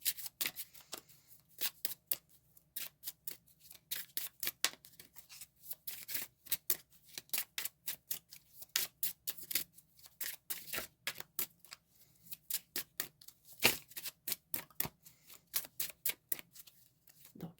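Oracle cards being shuffled by hand, a long run of crisp, rapid riffling snaps in irregular bursts with brief pauses, close and clear with no talking.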